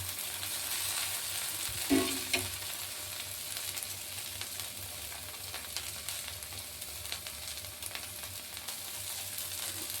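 Sliced okra (lady finger) sizzles steadily in a hot pan, a constant hiss of frying with a brief clatter of stirring near the start and no talk over it.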